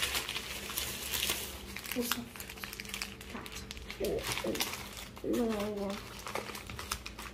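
A plastic bag is pulled and crinkled up close, with bursts of crackly rustling and crumpling, while voices talk over it.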